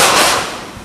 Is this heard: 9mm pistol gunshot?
yes